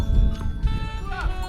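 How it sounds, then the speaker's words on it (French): A herd of goats bleats all around on a mountain hiking trail, several overlapping cries rising close by over a steady rustle, with voices speaking through it. "On est comme en plein dans un troupeau de chèvres."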